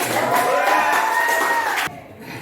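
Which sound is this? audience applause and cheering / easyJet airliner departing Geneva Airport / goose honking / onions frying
audience applause and cheering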